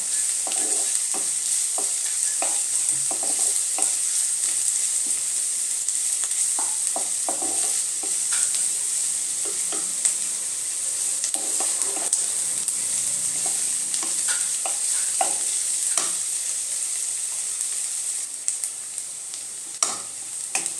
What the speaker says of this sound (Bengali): পেঁয়াজটা একটু লাল লাল করে ভেজে নিব। ফ্লেমটা মিডিয়াম রাখবো।